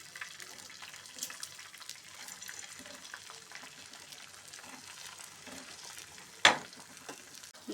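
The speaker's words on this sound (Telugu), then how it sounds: "గ్యాస్ ఆన్ చేసి తవా పెట్టేసుకొని గ్యాస్ పైన కొంచెం నూనె పోసుకొని గుడ్డు ఇలా వేసుకొని" An egg fries in a little oil on a tawa griddle over a gas flame, giving a soft, continuous sizzle, with one sharp metallic clank near the end.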